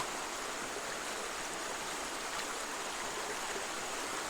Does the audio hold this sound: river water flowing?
yes